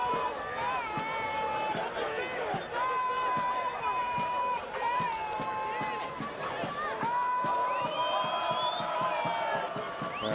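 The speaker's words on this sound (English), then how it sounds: "Crowd is still lively, but there's an undercurrent of tension in the air around Perry Park now." Football crowd at Perry Park during an NPL men's grand final between Gold Coast Knights and Olympic FC, a lively, continuous roar of cheering and whoops with rhythmic clapping or chanting, loud and close throughout.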